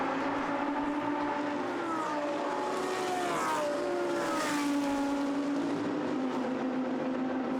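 Lamborghini Super Trofeo race cars run at Monza, their engines a distant rising and falling drone as they pass, with the pitch sweeping through shifts under a constant circuit ambience.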